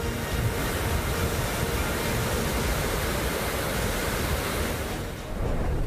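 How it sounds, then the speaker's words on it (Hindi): Flash flood water in Chamba rushes in a loud, unbroken roar of churning torrent, dense and close, with a brief dip near the end before the roar resumes. "तेज धार में प्रोजेक्ट के पास खड़ी खड़ी बड़ी गाड़ियां बहाव में बहने लगी।"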